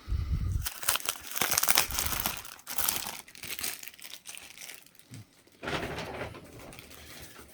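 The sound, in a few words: cutting the plastic wrap on a wax pack box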